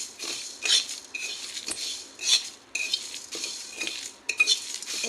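A metal spoon stirs whole spices frying in a hot kadai for pickle, giving repeated scraping and clinking strokes in an irregular rhythm over a soft sizzle, close up with no voices.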